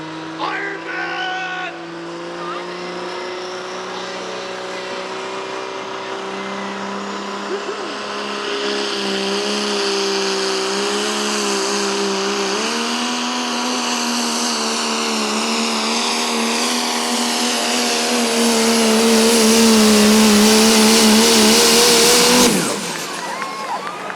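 A 6.7 liter Cummins diesel truck hauls at a fair truck pull, engine roaring loud and steady, then climbing in pitch as it strains and revs harder before cutting off abruptly near the end.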